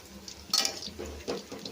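Sago muthia frying in hot oil over a low flame are stirred with a utensil, giving a few soft scraping strokes over a quiet, steady sizzle at moderate distance.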